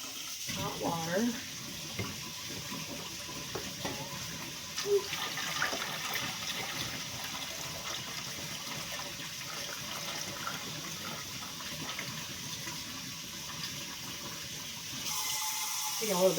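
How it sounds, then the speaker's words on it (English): Hot water runs steadily from a tap into a large pressure cooker set up for canning, filling the spaces between the jars. A continuous hiss and splash, moderately loud, with a brief louder rush near the end. "I'm just going to take a little bit more water."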